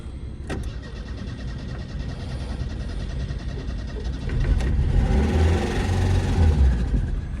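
A 1989 car's engine catches and fires up after sitting unused, the cranking giving way to a louder, steady running rumble that builds through the second half, close and unaccompanied by talk.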